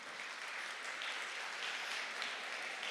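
An audience at the FIRST in Texas Manor District robotics event applauds in a steady, even wash of clapping that carries through the whole stretch without a pause.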